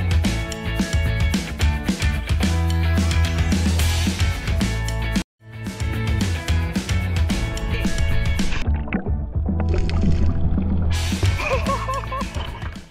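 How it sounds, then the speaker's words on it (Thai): A full, dense music track plays loudly with a brief dropout near the middle; later a low-pass filter effect muffles the top end, giving a darker, muted sound before the full brightness returns. "ใส่ตัว low pass filter อย่างในตัวอย่างเนี่ยลองฟังดู"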